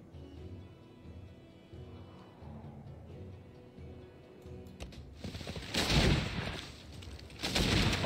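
Gunfire from Brazil's units in the strategy game Civilization 6, a loud crackling burst of rapid shots breaking out after a quieter stretch and swelling again near the end, with no talk.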